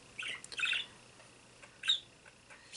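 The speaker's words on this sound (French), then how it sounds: "Elle se répond comme si c'était un autre oiseau." A pet bird gives sharp, close squawks and chirps in a quiet room, one short burst early and another a second later, answering a recording of its own calls.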